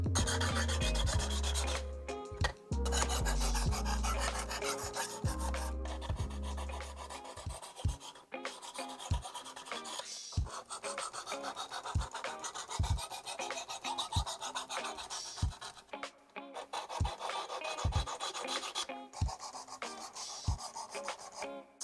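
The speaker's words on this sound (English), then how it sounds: "I'm gonna go ahead and get all these other knives sharpened up right now" Steady rasping strokes of knives being sharpened on Sharprock and Worksharp sharpeners, a dense rhythmic scraping that runs throughout with brief pauses and occasional clicks, close and clear.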